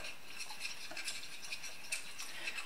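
Teaspoon stirring wasabi into garlic aioli in a small dish, faint quick scraping and light clinks of metal against the bowl in a steady, close rhythm, with no talking.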